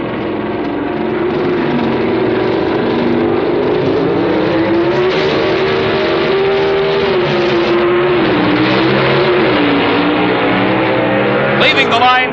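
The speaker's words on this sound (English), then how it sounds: "Leaving the line side by side, the horsepower of the Ford pays off at the finish line." Pro Stock drag race at the 1978 NHRA Summernationals, an AMC Hornet against Bob Glidden's Ford Fairmont: a loud, sustained roar of racing engines climbing steadily in pitch as the cars run down the strip, with a brief sharper burst near the end.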